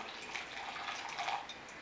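Water from a kettle trickles steadily onto ground coffee in a Chemex for the bloom, a faint, close, soft splashing pour that continues evenly for a couple of seconds.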